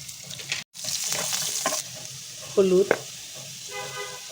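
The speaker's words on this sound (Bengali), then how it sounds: "সামান্য পেঁয়াজ দিচ্ছি। পেঁয়াজের মধ্যেই আস্ত গরম মশলা দিয়ে দিচ্ছি।" Onion and whole garam masala fry in oil, with a short, moderate sizzle broken by a brief gap and a few clanks and a honk-like tone.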